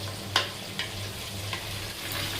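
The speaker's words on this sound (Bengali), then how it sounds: "সুজিটাকে একটু ভালো করে ভেজে নিচ্ছি" Semolina fries gently in a pan with a low, even sizzle, broken by a few light scrapes of a spoon. The sound is quiet and brief, with no voices.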